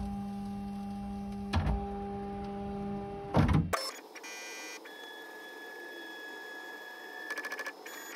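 A Bambu Lab 3D printer homing its Z-axis during lead screw maintenance, with a steady motor whine, a couple of short mechanical clunks, then a shift to higher tonal whirring and faint beeps, close and alone.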